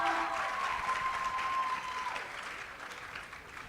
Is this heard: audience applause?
yes